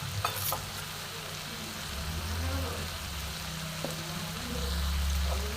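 Radhuni spice paste and capsicum paste being sautéed in a pan for a paneer dish, a low crackling sizzle with soft stirring, close and fairly quiet, with a faint low murmur underneath.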